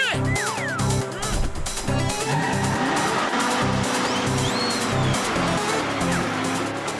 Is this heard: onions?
no